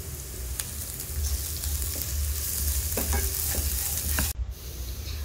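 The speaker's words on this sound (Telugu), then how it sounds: "అవి వేసిన తర్వాత ఆనియన్స్ బ్రౌన్ కలర్ వచ్చే వరకు ఖచ్చితంగా ఫ్రై చేసుకోవాలి." Onions frying and being stirred in a pan for an onion egg fry, a steady sizzle with scraping stir strokes, close and continuous, briefly cut near the end.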